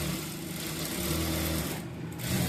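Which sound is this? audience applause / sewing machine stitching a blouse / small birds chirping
sewing machine stitching a blouse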